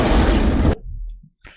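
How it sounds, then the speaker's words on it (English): In the video game Achilles Survivor, the corpse explosion skill sets off a short, heavy burst with a deep low-end boom that drops off abruptly. A couple of faint pops and a soft game effect follow. "Corpse explosion"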